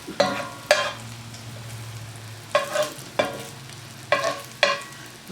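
Grease frying in a pan for a collard sandwich, sharp sizzling bursts recurring in pairs as food is stirred or splattered, over a quieter steady fry with a low hum underneath.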